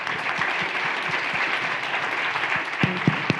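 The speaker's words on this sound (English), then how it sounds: "So if we can give them a round of applause." Audience members at a leadership summit applaud the panelists, a moderate, even patter of clapping that continues throughout with a few sharper claps near the end.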